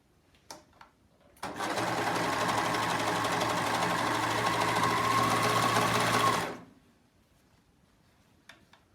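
An overlocker runs in one steady, fast burst of stitching for about five seconds while a maxi dress is sewn, with a few faint clicks and handling sounds before and after.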